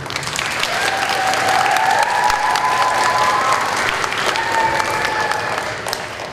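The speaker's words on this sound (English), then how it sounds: "please give up a round of applause for Miss Carrie Bartley" Audience applause at an elementary school model school celebration in Ponca City, a dense sustained clapping from a crowd that swells, holds and slowly tapers off.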